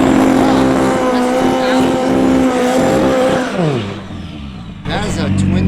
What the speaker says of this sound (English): That is a twin-turbo S2000 is what it sounds like.